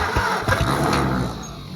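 An Oliver 70 tractor engine runs and spits oil, a steady rough rumble with irregular knocks and sputters, close and loud throughout.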